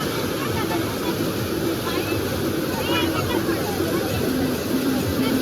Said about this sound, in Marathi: तुम्ही बघू शकता पाण्याला किती वेग येते